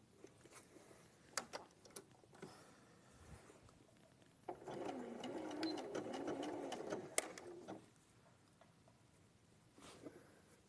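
A sewing machine stitches a garment side seam in a steady run of about three seconds, with a few lighter bursts and handling noises before and after, heard fairly close with no talking.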